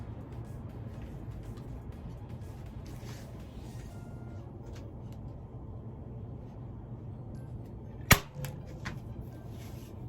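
A stapler driving a single staple, one sharp, close click that stands out once against a quiet, low indoor hum, followed by a faint small knock.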